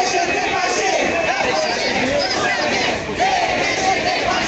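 A May Day protest crowd is stopped at a police blockade. Loud, dense shouting and chatter from many people continue steadily without a break.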